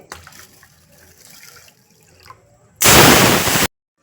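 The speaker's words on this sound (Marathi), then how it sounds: "आता ह्या डाळीमध्ये आपण पाणी टाकू" Water poured into a bowl of mixed lentils set to soak for rice-and-dal appe batter: a few quiet clinks and handling noises, then a short, loud, close gush of pouring that stops abruptly.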